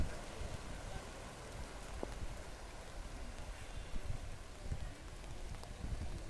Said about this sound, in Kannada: ಫುಲ್ಲು ಮಳೆ ಮಳೆ ಮಳೆ.